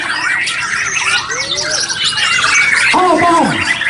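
White-rumped shamas compete at a bird contest in Takengon, Aceh Tengah, singing loud, close, varied whistles, trills and sharp squawks in quick succession, with more song coming from other birds nearby.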